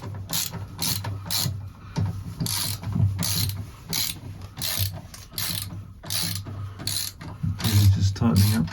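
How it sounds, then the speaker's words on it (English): A ratchet tightens bolts on a sailboat's spade rudder quadrant in short bursts of rapid clicking, repeated about a dozen times with brief pauses between strokes, close and fairly loud over low background noise. "Just tightening up the bolts here on the quadrant"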